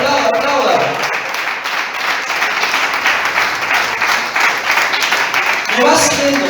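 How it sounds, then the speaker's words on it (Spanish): A church congregation breaks into sustained, dense applause that fills the room, fading briefly near the end before a fresh swell of clapping, with voices mixed in among the crowd. "Aplauda, aplauda, aplauda."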